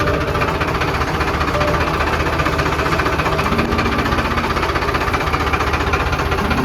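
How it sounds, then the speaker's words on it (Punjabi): A new tractor's engine chugs at a steady, loud, unchanging pace throughout as it drives in close by, with no voices. "ਆਪਾਂ ਕਰਾਂਗੇ ਟਰੈਕਟਰ ਦੀ ਐਂਟਰੀ ਅੰਦਰ"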